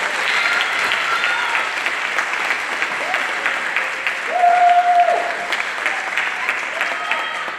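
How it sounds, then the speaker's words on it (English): Audience applause at a middle school band concert, a broad sustained wash of clapping from a full hall with brief whistles and cheers rising midway, the clapping continuing evenly throughout. "I think that they deserve another round of applause for their efforts."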